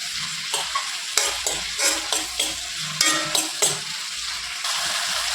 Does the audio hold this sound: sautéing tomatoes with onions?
yes